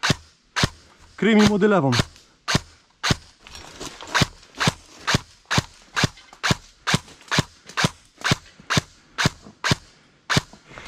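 Airsoft gun firing at an indoor CQB ruin site with a weaker spring fitted, a long run of sharp, evenly spaced single shots, close and loud, with someone speaking briefly among them.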